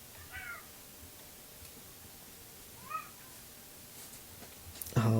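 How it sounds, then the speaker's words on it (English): A pet cat meows indoors: two short, fairly faint meows a few seconds apart over quiet room noise, followed by a louder burst of other sound at the end. "my cat's going crazy anyway"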